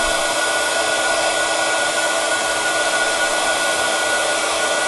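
Heat gun melting Wow embossing powder on a card, a steady loud blowing roar that runs unbroken and alone throughout.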